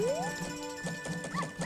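A dog in the video game Zelda: Majora's Mask barking in a few short, yippy electronic bursts over game background music.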